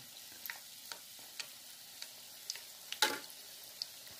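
Cornstarch donuts fry in oil that is not too hot, giving a soft continuous sizzle with regular small crackling pops, and one louder spatter near the end, close and without talk.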